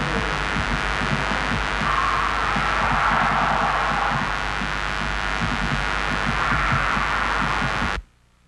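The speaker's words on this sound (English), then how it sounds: "Listen again for what sounds like moaning and screaming among the electronic static." Recorded electronic static at Stirling Castle fills the clip as a loud, continuous hiss and throbbing hum with faint wavering tones that could pass for moaning, ending abruptly.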